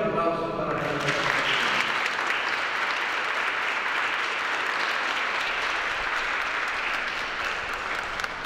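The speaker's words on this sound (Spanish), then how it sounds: "Un fuerte aplauso para ella." A church congregation at a fifteenth-birthday Mass breaks into sustained applause, a steady wash of many hands clapping that follows a brief spoken announcement.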